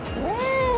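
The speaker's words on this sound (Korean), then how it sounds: "야옹도 했어?" A single close, clear cat meow, rising then falling, short and distinct with no talking.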